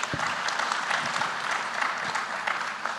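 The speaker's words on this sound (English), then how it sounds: "Give her a round of applause," An audience at a legal practice management panel discussion claps steadily, a dense wash of many hands that holds at a fairly even level throughout with no voices over it.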